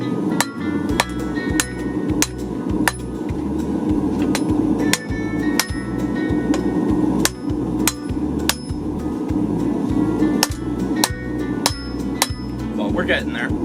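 Hammering steel while forging a kitchen knife, a long run of loud, close metallic strikes in a steady rhythm with occasional brief pauses and ringing clinks.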